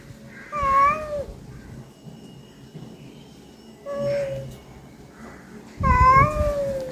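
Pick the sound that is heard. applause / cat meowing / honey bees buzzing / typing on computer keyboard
cat meowing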